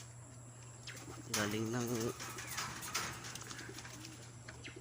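A racing pigeon coos nearby in one soft, throaty, warbling call, with a person talking around it and a low hum in the background.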